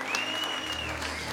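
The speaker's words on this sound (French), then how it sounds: "Il fallait applaudir ici pour soumettez-vous." A church congregation claps together during a sermon, a dense, even burst of applause that fills the whole brief moment, with a faint tone running underneath.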